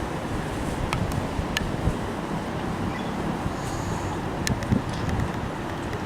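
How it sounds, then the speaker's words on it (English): Strong spring wind gusts along a riverside walk in Japan, a steady loud roar and buffeting on the microphone throughout, with no voices. "though it's so windy."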